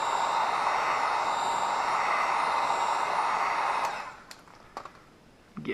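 Heat gun warming vinyl wrap on the hood of a Subaru WRX, a loud steady airy whoosh that runs for about four seconds and then cuts off, leaving a few faint clicks and handling noises.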